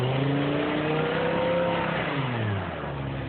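BMW M5 E60 engine revving hard, then the throttle is cut, the loud rising engine note dropping away sharply in the final second.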